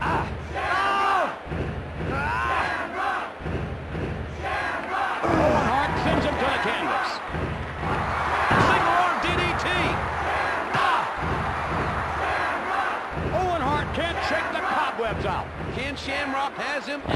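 A wrestling crowd in the WWF Warzone video game roars behind commentator voices, mixed with thuds and slams from the ring, a steady arena din lasting the whole stretch.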